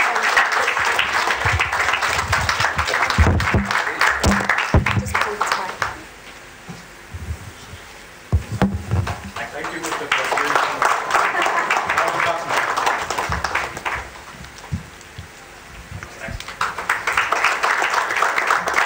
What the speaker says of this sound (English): I think they deserve that applause.